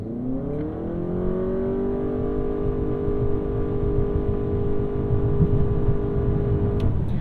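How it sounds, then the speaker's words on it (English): 2023 Honda Accord launching hard in sport mode, its CVT engine rising quickly and then holding a steady, loud drone with a continuous whine as the car pulls away, heard from inside the cabin with no talking. "That's how a CVT should sound"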